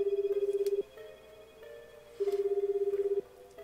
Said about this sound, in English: The phone rang several times before a sleepy voice finally answered.